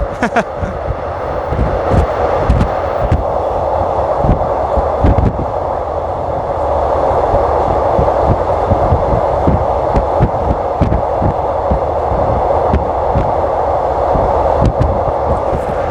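Steady rumbling ride aboard a commuter train from Bangkok's Krung Thep Aphiwat Central Terminal toward Don Mueang, with continuous wheel and track noise, rhythmic clacks over rail joints and occasional sharper knocks heard from inside the carriage.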